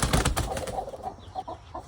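A bird calls on a farm, several short cooing, dove-like notes coming at irregular intervals at moderate distance, with a burst of rustling or wing flaps at the start and no speech.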